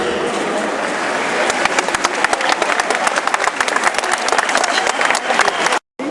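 A large outdoor crowd applauds at the inauguration of Montpellier's tramway lines 3 and 4. Sharp, dense clapping swells from a murmur and continues loud until it cuts off abruptly near the end.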